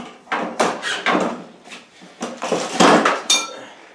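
Wood clamps with metal fittings clink, knock and rattle in a run of short handling bursts while being fitted in place on a lathe countershaft rebuild, close and fairly loud with no talk.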